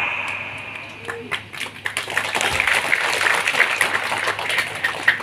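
Audience clapping at a religious lecture, a scattered patter of claps that swells from sparse taps into steady, fairly loud applause.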